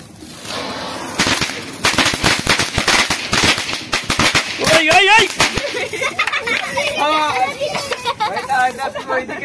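Firecrackers burst during a Kali Puja celebration as a rapid string of sharp, close cracks and pops. Children shout and chatter excitedly over and between the bangs.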